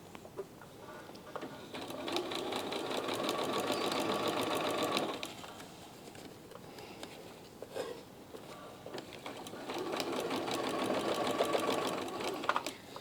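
A sewing machine runs in two close bursts of rapid, steady stitching along a trouser seam, separated by a brief pause with light handling clicks, no talk.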